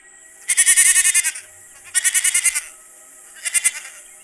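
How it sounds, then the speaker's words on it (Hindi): Cartoon goats bleat while grazing, three bursts of nasal, wavering bleats in quick succession, loud and close with pauses between, alone without talk. "उसकी बकरियां खुद ही घास चर रही होती हैं"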